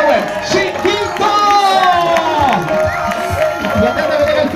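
A crowd at a summer Latin night show cheers, whoops and claps as a band comes on, with voices shouting over the lively, close applause.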